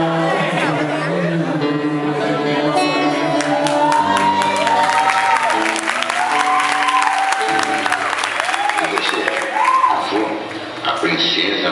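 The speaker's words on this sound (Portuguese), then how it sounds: "Palmas para Maiara." Guests at a 15th birthday party applaud loudly and continuously, with cheers and chatter mixed in, while an amplified voice talks over the clapping.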